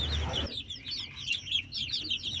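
Country chicken chicks kept for sale in Palakkad give off rapid, high-pitched peeps that repeat faintly and steadily after a brief low thump at the start.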